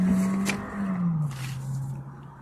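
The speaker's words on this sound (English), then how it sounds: "This car's trying to be fast and furious" A nearby 4-cylinder car accelerates past, its engine note dropping in pitch as it fades, with no one talking.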